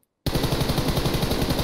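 Rapid automatic gunfire in a shooter video game bursts in abruptly after a moment of silence and continues as an unbroken, evenly spaced stream of loud, close shots.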